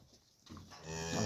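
A Schwyz breed cow gives a single close moo that rises and holds loudly for about a second, with no talking.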